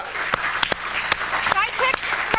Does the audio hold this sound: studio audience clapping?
yes